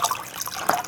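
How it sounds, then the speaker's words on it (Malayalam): Water poured into a coconut-shell bird feeder, a brief close trickle and splash lasting under a second, with a brighter spurt near the end. "വെള്ളം ഒഴിച്ചിട്ടുണ്ട്."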